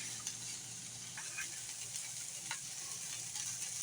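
Food for fried rice browns in a pan over not-quite-high heat, giving a steady, fairly quiet sizzle with a few faint stirring scrapes and no talking.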